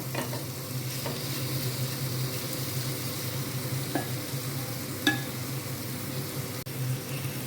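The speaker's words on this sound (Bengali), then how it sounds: "এটা আমি ভেজে নেব একদম লো ফ্লেমে হালকা করে একটু আমি নেড়ে চেড়ে নেব" Onion and spices for an onion egg curry fry on a low flame in a pan, giving a soft, steady sizzle with occasional light scrapes and clinks of a spoon stirring.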